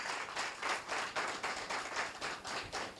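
Audience applause at a business networking event, a steady patter of many hands clapping together, moderately distant and fairly quiet, continuing evenly for a few seconds.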